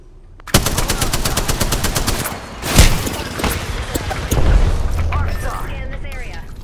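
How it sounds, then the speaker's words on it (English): Rapid automatic gunfire rattles in the video game Apex Legends, long bursts of close shots with a heavier boom in the middle and another sustained volley near the end, with voices under the shooting. "Under fire. Taking fire."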